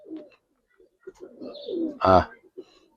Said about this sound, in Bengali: চিলা কবুতর ভাই, ব্রাহ্মা ভাই। এটা নর, এটা মাদি ভাই।